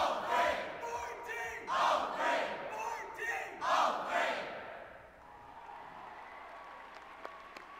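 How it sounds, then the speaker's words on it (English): Crowd at a 2019 FMA District Championship robotics event applauding and cheering for Team 1403, swelling in loud waves of clapping and shouts before fading to a quieter hall murmur. "Let's have one more big round of applause to 1403."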